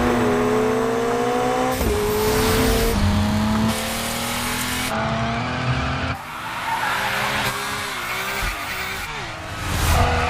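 A BMW in the racing game The Crew Motorfest revs hard through repeated gear changes, its engine note climbing and dropping while tires squeal and skid, loud and continuous throughout.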